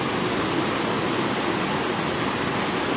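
Flood water rushing through the Hamarkona area of Sylhet, a steady, loud broadband roar that holds unbroken throughout, with no voices over it.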